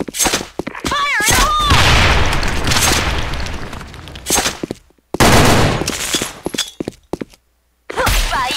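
Heavy gunfire and deep booms from the shooter game Sudden Attack, with a grenade going off amid rapid bursts of rifle and machine-gun fire; loud and dense, with short gaps of near silence and brief shouted voices.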